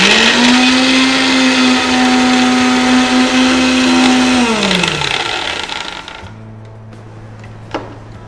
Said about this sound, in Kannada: ಈಗ ಈ ಸೌತೆಕಾಯಿನ ಮಿಕ್ಸ್ ಮಾಡ್ಕೊಳ್ಳೋಣ. ಇದು ಪೇಸ್ಟ್ ಆಗಲಿ, ಫೈನ್ ಪೇಸ್ಟ್.